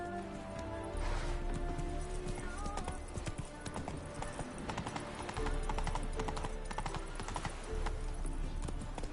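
A horse gallops in The Witcher video game, its quick, continuous hoofbeats loud and close, with game sound layered underneath.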